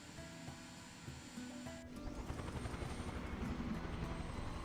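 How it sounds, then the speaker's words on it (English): A jet engine idles on the ground in Microsoft Flight Simulator, a steady loud roar with a high whine that swells and thickens partway through and then holds as a broad, continuous rumble. "Just shut your engine off if you're on the ground in a jet, please, for everybody's sake."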